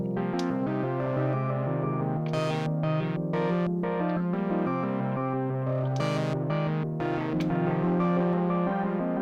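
A Sequential Pro 3 synthesizer plays a rhythmic sequence of rich, buzzy harmonic notes through a distortion effect, loud and continuous with sharp bright accents and no talking.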